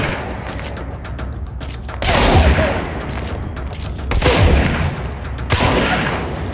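Thrown objects burst into repeated heavy explosions in the video game Control, three big booming blasts about two seconds apart over a constant rumble of crackling gunfire-like debris.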